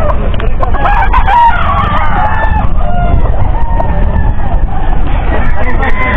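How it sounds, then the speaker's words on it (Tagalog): A rooster crows loudly at a busy pet and farm animal market in Bocaue, with clucking fowl and a babble of crowd voices close around it. "Kita nyo naman mga klase ng manok ni Boss Mac."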